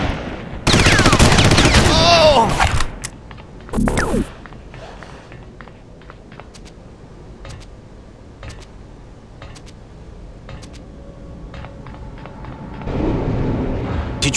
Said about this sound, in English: Did you hear gunfire?